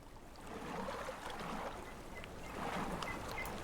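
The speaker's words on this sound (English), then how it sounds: "You can actually see the water flowing faster through the gap and kind of creating like a little eddy here." Water flows and rushes through a gap in the beaver colony game Timberborn, a steady rolling stream sound with swelling surges, heard alone at moderate volume.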